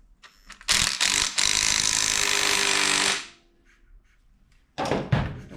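A part is tightened on a 1969 Suzuki TS250 motorcycle that sat abandoned for decades: a loud, rapid mechanical burst of ratcheting runs for about two and a half seconds, pauses, then starts again briefly.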